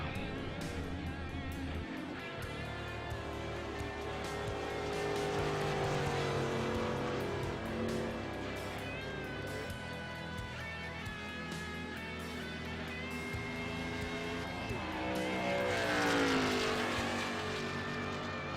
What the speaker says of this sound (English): Stephen Lou Allen is pulling out on the racetrack, so we'll see him get his qualifying time in here in the number 9 Mustang